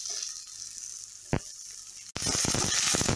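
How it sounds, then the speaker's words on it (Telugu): Chopped onions drop into hot oil in a pan, a quiet kitchen hum giving way to a sudden loud, steady sizzle close by after a brief clink. "తర్వాత అందులో తరిగిన ఉల్లిపాయలు కూడా వేసుకొని బాగా ఫ్రై చేయాలి."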